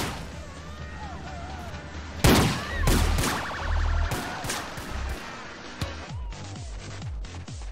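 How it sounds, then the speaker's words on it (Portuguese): Explosions from a modded GTA San Andreas game: several loud, booming blasts burst out in quick succession, with crackling debris between them, over a low background rumble. "Esses efeitos bacanas, ó, de explosões"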